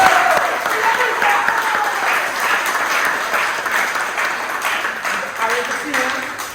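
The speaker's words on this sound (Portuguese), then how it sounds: "Um aplauso para mais para Abishai" Audience applause at a school event, a steady wash of clapping that continues throughout at fairly strong level, with a voice speaking over it.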